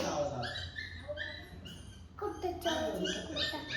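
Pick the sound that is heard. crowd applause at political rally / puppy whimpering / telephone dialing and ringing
puppy whimpering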